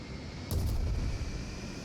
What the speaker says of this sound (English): Just one cannon hit.